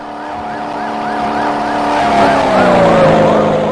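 A video game police car siren with a rapid repeating warble sounds over a steady roaring engine, growing louder as the vehicle noise builds.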